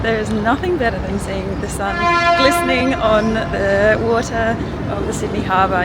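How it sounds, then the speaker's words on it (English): A ferry at Sydney's Circular Quay on Sydney Harbour blasts a long, loud, sustained horn in the background while someone talks over it. "You can hear that big toot in the background, one of the ferries"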